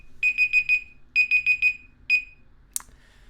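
An electronic alarm beeps in rapid groups of four, two groups followed by a single beep, bright and close, then stops with a short click and a quiet room afterward.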